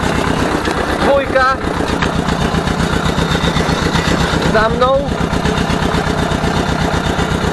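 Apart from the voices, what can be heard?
Ursus C 325 tractor engine running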